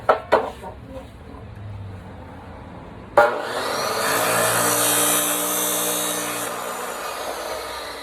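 Thin-wall PVC pipe being cut into two-foot lengths, a few sharp knocks at the start, then from about three seconds a steady, loud rasping cut with a droning hum that continues to the end.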